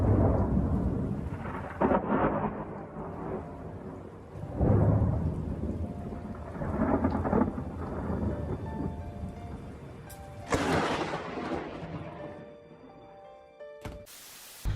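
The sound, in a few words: thunder and rain during a lightning storm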